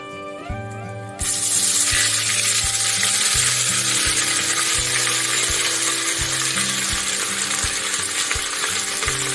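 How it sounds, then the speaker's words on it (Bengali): Onions and whole spices, with dried red chillies and bay leaf, sizzle and fry loudly in a pan for a Bengali mutton curry, a steady hiss broken by repeated clinks and scrapes of stirring. "একটু নেড়ে চেড়ে পেঁয়াজগুলো দিয়ে দেবো।"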